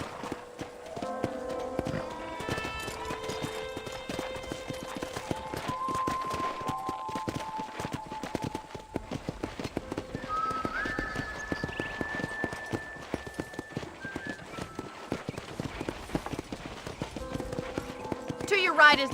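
Horse hooves clip-clop at a steady walking pace while riding around a ranch in the Red Dead Redemption video game, with voices talking over the rhythmic hoofbeats throughout.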